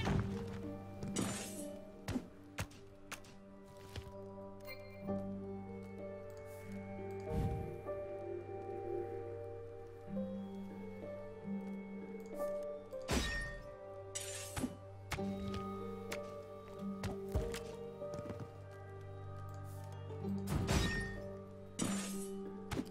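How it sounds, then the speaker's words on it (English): Cards catch fire in the card game Iris and the Giant, bursting in scattered sharp crackling flares over a steady tonal music bed, repeated across the stretch. "Jackass is back here setting my cards on fire. In case you're wondering what that was."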